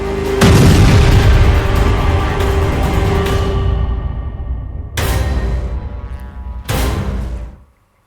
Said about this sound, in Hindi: जिसे सोशल मीडिया में पुतिन के डमी एटम ब्लास्ट की तरह बताया जा रहा है